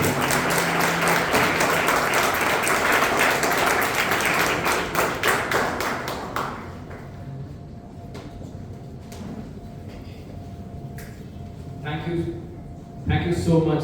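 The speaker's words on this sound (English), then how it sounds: "Audience, a huge round of applause." A Toastmasters meeting audience breaks into sustained, loud applause in a hall, many hands clapping steadily for several seconds before it fades to a quiet room with scattered taps and a short burst of sound at the close.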